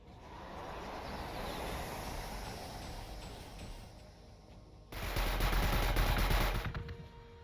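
Ranged gunfire in the strategy game Warhammer 40,000: Gladius, Adeptus Mechanicus campaign, a steady crackling volley of shots that swells into a louder, dense burst of fire before cutting off.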